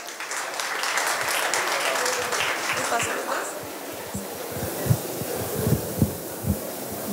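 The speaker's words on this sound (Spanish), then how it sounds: "Un aplauso, por favor." An audience welcoming a speaker with applause, a dense burst of clapping that fades after about four seconds into a few scattered, isolated claps.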